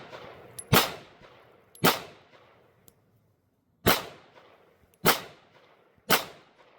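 Pistol shots fired at an orange target on a range: five sharp, loud reports spaced roughly a second apart, each with a short decaying tail, plus a faint click between.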